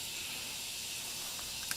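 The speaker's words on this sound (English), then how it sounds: "and you can see a lot of fizzing," Magnesium fizzes in a beaker during a chemistry reaction, producing a steady close hiss with no pauses and a couple of faint clicks near the end.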